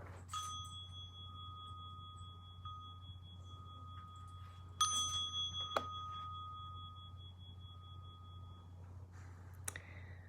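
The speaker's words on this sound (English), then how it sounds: "listening for the sound of the bell" A meditation bell is struck twice, each strike leaving a clear, sustained ringing tone that decays slowly in a quiet room, followed by a few faint clicks.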